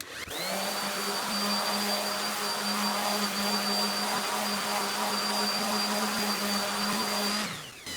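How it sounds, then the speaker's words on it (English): An oscillating sander runs steadily on cured resin art, a loud continuous electric whine with a sustained motor hum that starts abruptly and cuts off near the end, with no talking. "when you're sanding with that oscillating sander, you really don't need to put a lot of downward force on it"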